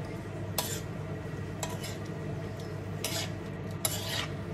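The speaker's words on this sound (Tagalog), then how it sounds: "haluin natin itong mabuti hanggang sa mag-combine lahat ng ingredients na nilagay natin" Beef ampalaya with brown sugar being stirred in a pan: several distinct scraping strokes of a utensil against the pan over a steady low background, with no talking.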